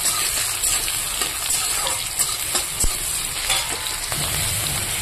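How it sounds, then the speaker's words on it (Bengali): Chopped onion fries in a pan with nigella seeds, a steady close sizzle broken by stirring scrapes and a few sharp pops, heard alone without talk. "এবারে পেঁয়াজটাকে আমি হালকা লাল করে ভেজে নেব।"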